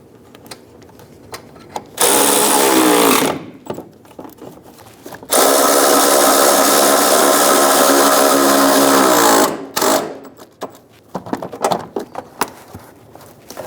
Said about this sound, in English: Go around and snug down all of the bolts.